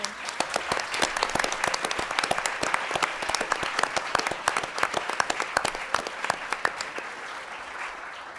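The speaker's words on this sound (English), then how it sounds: "Could you all stand and let us applaud you for all of your hard work you've been doing?" An audience applauds task force members on violence against women, dense clapping from many hands filling the room steadily for several seconds, with a little talk underneath.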